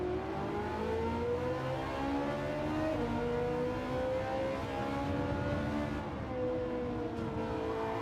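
A Ferrari Testarossa engine in the racing game Gran Turismo 7 drones steadily, its layered harmonics rising and falling smoothly with the revs. The sound is loud and continuous, with no talking.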